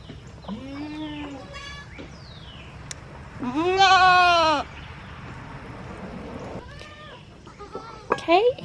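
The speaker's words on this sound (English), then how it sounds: "here are all our baby goats" Baby goats bleat in several wavering cries of varying length, one long loud call in the middle and shorter ones around it, close by on a farm during morning chores.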